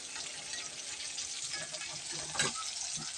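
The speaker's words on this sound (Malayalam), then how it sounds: "കയ്പക്ക പാവക്ക എണ്ണയിൽ കിടന്ന് വാടി." Sliced bitter gourd frying in hot oil for pickle, giving a steady soft sizzle and bubbling throughout, with faint scraping or stirring near the end.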